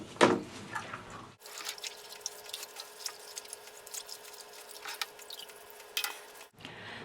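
A coarse pad from a goldfish canister filter is rinsed under running water, a steady faint splash and drip with a few sputters between short quieter moments.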